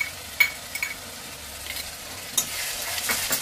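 Chopped onion sizzling in hot oil for a Bengali mutton and potato curry, with a few sharp scrapes of a spatula against the pan over a soft, steady fry.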